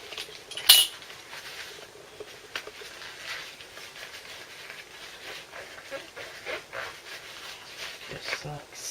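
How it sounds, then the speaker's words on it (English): A metal dapping block and dish get wiped out with kitchen roll, giving close, continuous rubbing and scuffing with a sharp metallic clink near the start, under a faint voice. "I'm going to give my dap and dish a wipe out"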